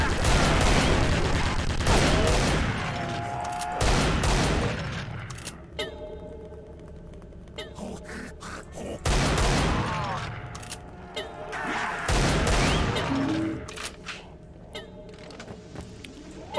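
Automated sentry gun in a zombie shooter game firing bursts at the undead, loud rattling gunfire with clustered shots and booms, interleaved with a player talking over it.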